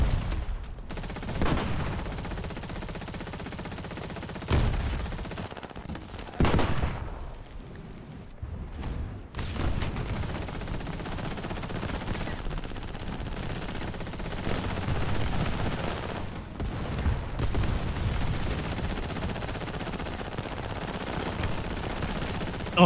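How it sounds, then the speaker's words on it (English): Sustained gunfire with machine-gun bursts, heavy impacts and explosions fills an April Fools exoskeleton combat suits versus tanks battle in War Thunder, dense and continuous with a few brief lulls. "Someone else is shooting me though, gotta reload"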